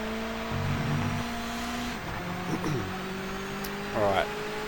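Race car engine droning through a lap in the video game Project Motor Racing, steady tonal whine with pitch shifts as it brakes and accelerates, a brief rising rev near the end, with a voice talking over it.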